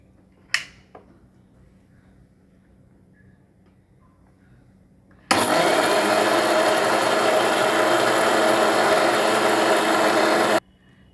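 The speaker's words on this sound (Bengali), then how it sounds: "এইবার আমি চাল ডালটা মিক্সিতে দিয়ে দিচ্ছি" Mixer grinder whirring loudly and steadily as it grinds soaked rice and black gram lentils, starting abruptly after a brief click and running unbroken for about five seconds before cutting off.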